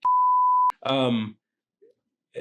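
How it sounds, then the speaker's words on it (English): A sharp, steady censor beep lasts under a second and cuts off abruptly, followed by a short burst of speech and near silence. "Just just beep their name out when you edit this."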